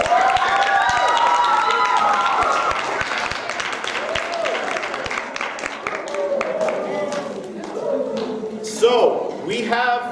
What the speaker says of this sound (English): Can we have a little round of applause for these guys?